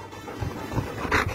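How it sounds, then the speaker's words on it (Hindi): Up close, a dog pants and whimpers in quick, uneven breathy puffs with a brief higher whine near the end, fairly loud and with no voices over it. "हट कुत्ता।"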